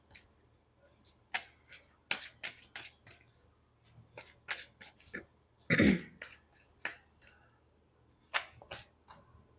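Tarot cards shuffled and drawn during a reading, crisp close flicks and slaps in an irregular run with one louder rustling burst midway.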